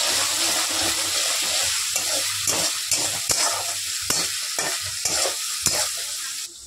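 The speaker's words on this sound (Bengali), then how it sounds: "এটাকে ভালো করে আমরা নাড়াচাড়া করে ভেজে নেব।" A paste of garlic, ginger and green chili is stirred and fried in a pan, with a steady close sizzle broken by repeated scraping and clacking strokes of a spatula.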